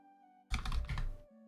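A burst of fast typing on a computer keyboard close to a microphone, with clicky keystrokes lasting under a second, loud against a quiet electronic hum.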